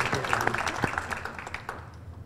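Audience applause for an award recipient at a law enforcement awards ceremony, a brief, fairly faint burst of scattered clapping with some background voices mixed in.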